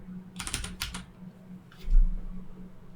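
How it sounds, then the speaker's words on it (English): Typing on a computer keyboard, with a quick burst of several close, crisp keystrokes followed by a pause and one or two further taps over a low steady hum. "And then I will just type terrain."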